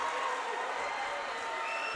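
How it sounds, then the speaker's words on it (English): Home crowd at a high school basketball game roaring and applauding after a made left-handed finish, a dense sustained wash of cheering and clapping throughout. "The home crowd is fired up."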